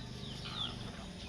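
A native labuyo chicken clucks softly and continuously at close range, a low throaty farmyard sound with no talk over it.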